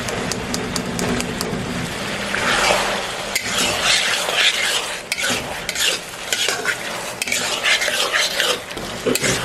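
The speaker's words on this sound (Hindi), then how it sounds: "मसाले के अंदर हम थोड़ी सी दाल को भूनेंगे।" Lentils frying in masala for dhaba-style dal fry, stirred vigorously in a pan with a busy sizzle, rapid metallic scrapes and clinks of the utensil, loud and close, and no speech.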